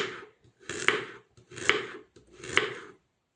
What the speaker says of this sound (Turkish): Havuçları doğradık.